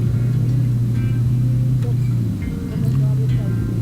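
Slow evening road traffic in Pampanga, Philippines, heard from a motorcycle: a steady engine rumble and passing cars hum continuously, with a brief dip before it swells again.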